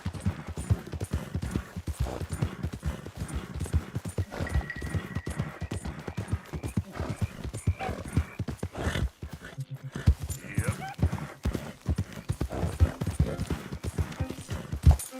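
Horse hooves gallop in the Red Dead Redemption 2 video game, a fast, steady clip-clop rhythm that runs throughout, close and moderately loud, with faint game ambience underneath.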